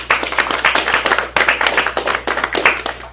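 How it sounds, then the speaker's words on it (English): A small group claps at a real-estate team talk in a room, with rhythmic, close hand claps coming in uneven waves and continuing for several seconds over a low steady hum. "Guys, give him a round of applause."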